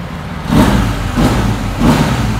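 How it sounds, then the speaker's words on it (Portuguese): Two big adventure motorcycles, a BMW R1250GS and a Triumph Tiger 900, run side by side with a rough, full-bodied engine note, surging in three loud revving pulses over a steady idle. "Motor bem áspero, encorpado."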